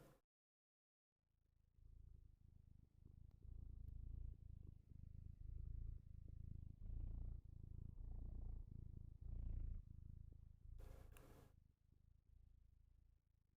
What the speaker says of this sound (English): you pet him and he purrs